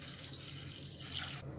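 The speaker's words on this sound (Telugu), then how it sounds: "2 కప్పుల వాటర్ వేసుకొని కలుపుకోవాలి." Water is poured into a seasoned buttermilk mixture for majjiga charu, a soft, steady splashing pour heard up close and alone.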